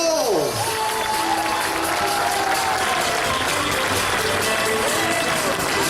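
Large outdoor crowd at the Jesolo European Air Show applauding and cheering for the Patrulla Águila aerobatic team, a dense steady wash of clapping with scattered shouts and a voice over the loudspeaker.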